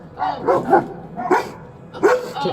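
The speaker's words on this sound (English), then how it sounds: "Oh, it's a big dog." A big dog barks in several loud, close bursts during a roadside police encounter, with a few seconds of gruff woofs and yips.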